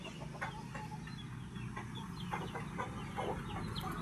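Healthy chicks and chickens, including large Belgian Leggy breeding stock, cluck and peep steadily at a farm pen, with many overlapping calls at close to middle distance over a constant background.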